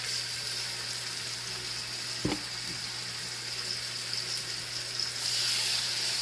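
Continuous hissing sizzle of pork chops searing in a hot pan, steady and close, with one sharp clack of a utensil partway through.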